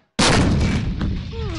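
Artillery fire during a video game battle set in Chechnya, with a Serbian T-72 tank in action: a sudden loud booming blast followed by sustained rumbling and crackling, with faint whistling tones near the end.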